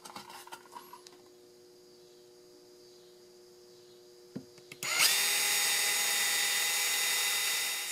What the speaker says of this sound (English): Now I need to drill me some pilot holes here.